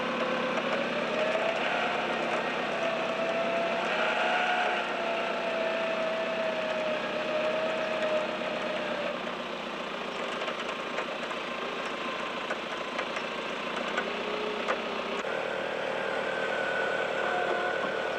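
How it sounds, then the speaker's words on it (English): A 4WD vehicle's engine runs with a winch and two snatch blocks while pulling out of a bad bog in the Australian outback in 1991, giving a steady, loud mechanical drone and whine throughout with no talking. "by using the 2 snatch blocks, plus me driving, plus the winch, I should be able to get out of this bad bog pretty easily"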